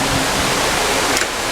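An indoor waterfall feature in the Embassy Suites Orlando hotel pours with a loud, dense, steady rushing hiss that fills the space without pause.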